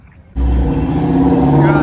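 Toyota Supra engine at an underground car meet, a loud close engine note that kicks in abruptly and holds steady for under two seconds, with voices mixed in.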